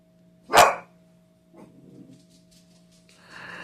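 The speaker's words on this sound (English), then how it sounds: "My doggy is barking at the door." A pet dog barks at the door: one sharp, loud bark, followed by quieter snuffling and muffled rustling in an otherwise quiet room.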